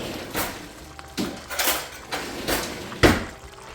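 Metal cutlery and kitchenware clink and clatter in a few separate bursts as a spoon is fetched for tasting broth, each rattle sharp and close, spaced out over a few seconds with no talking.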